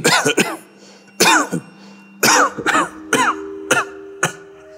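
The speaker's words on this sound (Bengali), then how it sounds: "তুমি তো কাশছো" A series of harsh, hacking coughs comes in clustered bursts, about eight or nine in all, close and loud with short pauses between.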